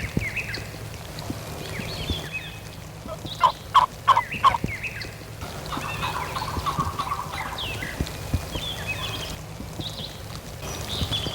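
A wild turkey gobbler gobbles in a quick burst of four rattling calls mid-clip, with further fainter gobbles and other bird calls around it in an outdoor setting, no talk.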